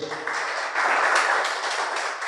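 Congregation in a church service applauds, a dense, steady wash of many hands clapping together that swells slightly midway and continues to the end, with no talking.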